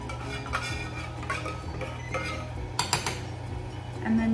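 A spoon scoops a chickpea blend out of a container, giving soft scrapes and a few clinks against the sides over a low background hum, with a brief tonal beep near the end.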